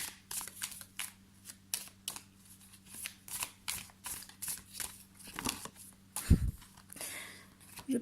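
Oracle cards being shuffled by hand, with soft, rhythmic riffling and slapping strokes repeating steadily throughout at close range and low volume.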